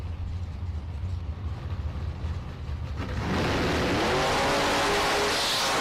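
Bracket drag race between a Roadster S10 and a yellow Camaro, with steady engine rumble building into a loud, sustained full-throttle roar as the cars launch down the strip.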